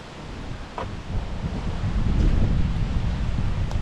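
Strong outdoor wind buffeting the microphone, rising into a loud continuous low roar with gusty rumbling and a brief rustle, no voices.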